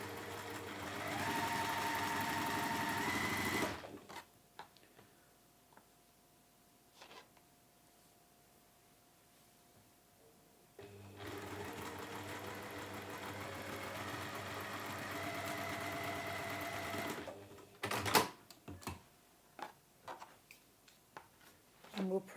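Chain piecing quilt units, a sewing machine runs in two sustained stretches of steady stitching separated by a quiet pause, followed by brief handling clicks and knocks.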